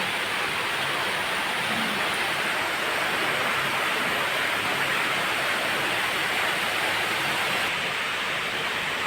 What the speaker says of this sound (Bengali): দেখো অজস্রে বৃষ্টি পড়ছে